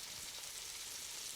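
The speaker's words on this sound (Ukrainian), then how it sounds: "Оцей звук шипіння" Soft, steady sizzling of potatoes frying in hot fat, a continuous hiss with faint crackles, quiet and close.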